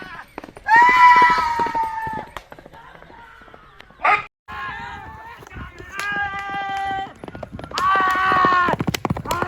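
A racing mare galloping in a flat horse race at Mirpur, Jalandhar, with hoofbeats running beneath loud crowd shouting and cheering for most of the stretch.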